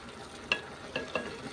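Bottle gourd vegetable curry being sautéed in a pan, with soft background sizzle broken by three distinct scraping stirs of a spatula, fairly quiet and with no voices.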